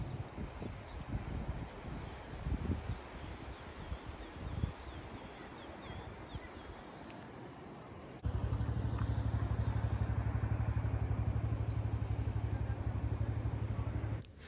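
A motorcycle rides along a mountain road toward Tosh village near Manali, with rushing wind and road rumble at first, then a louder, steady engine drone that holds until the end.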